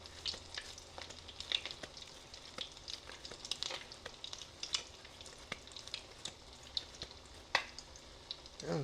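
Wild caught salmon cakes, patties shaped from canned salmon, fry in hot grease in a pan with a steady crackling sizzle and sharp pops close by, with no talking.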